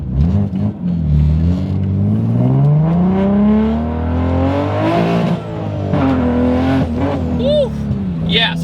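A 900hp manual Toyota Supra accelerates hard, its engine note climbing loudly through the gears. The pitch drops briefly at each shift, and a voice can be heard over the roar.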